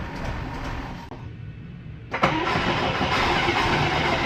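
A 4-cylinder International Scout 800 engine turns over, catches with a sharp burst after a brief quieter dip, and then runs at a loud, steady, rough idle close by.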